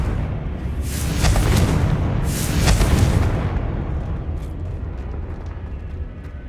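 A Confringo fire spell bursts in Hogwarts Legacy, a loud rumbling blast that swells for a couple of seconds with crackling bursts, then slowly fades out.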